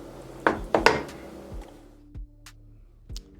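Spoon or utensil clinks and knocks against a bowl as apple turnover filling is transferred, a few sharp taps followed by softer scrapes, close and without talk.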